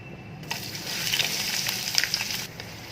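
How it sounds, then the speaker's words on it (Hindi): Onions and curry leaves fry in hot oil for a mutton keema dish, a steady close broadband sizzle that swells after a quiet start, with small crackles and pops spread throughout, no voices. "प्याज को ट्रांसपेरेंट होने तक फ्राई करें।"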